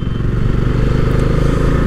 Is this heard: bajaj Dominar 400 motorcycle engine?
yes